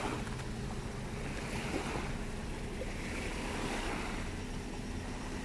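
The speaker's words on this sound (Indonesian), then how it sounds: "Beginilah suasana di pantai." Steady rush of ocean surf at Serasa beach, waves swelling and breaking continuously with some wind noise, no voices.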